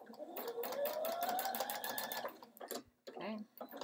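A sewing machine stitching a sweater waistband, its motor whirring steadily and rising in pitch, with a short pause before it runs again, heard close over a quiet voice.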